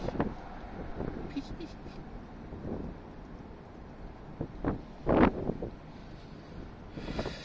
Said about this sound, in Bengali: বাতাস সব সময় এরকম বাতাস।